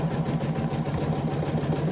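A sewing machine stitches fabric for a nesting basket, running at slowed speed with a steady, rhythmic mechanical whir and hum, close and continuous with no talk.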